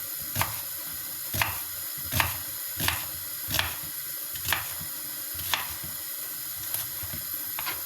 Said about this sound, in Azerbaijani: Gördüğünüz kimi soğanımızı bölüp və samavari doğrayırıq